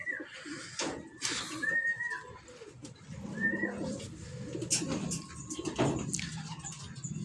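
Racing pigeons coo near the microphone, with repeated soft throaty calls and a few chirps, while people talk quietly in the background.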